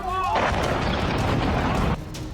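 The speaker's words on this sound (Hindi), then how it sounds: "हमले के बाद इलाके में जोरदार धमाका और धुआं देखा गया।" A ballistic missile strike produces a loud, sustained explosive roar and rumble that ends abruptly near the close, with a faint tonal whine at the very start.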